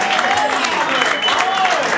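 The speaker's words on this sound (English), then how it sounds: "I want you to keep your applause going for Chunky and Adler" Steady crowd applause for comedians at a live comedy show aboard the Scarlet Lady, a dense continuous wash of clapping with a voice talking over it.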